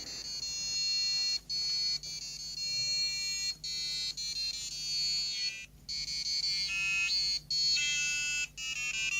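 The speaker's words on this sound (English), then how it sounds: "it will sound the alarm immediately" An LED matrix alarm clock's electronic alarm beeps in a repeating pattern of high, piercing tones, loud and close, with short gaps between bursts over a low steady hum.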